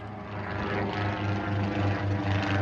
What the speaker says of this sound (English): Yo, y'all gotta see this plane. This thing's kind of crazy.